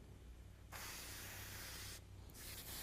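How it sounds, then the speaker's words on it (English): An airbrush sprays yellow acrylic paint over a board, two bursts of close, steady hissing spray separated by a short pause, with quiet room background between them. "I'm going to go ahead and spray the whole thing over in yellow"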